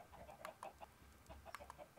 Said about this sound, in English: There are chickens over here as well.